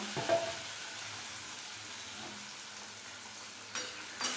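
Potato filling frying in oil in a pan: a soft, steady sizzle with a few faint stirring knocks near the start and end. Quiet and close, with no voices.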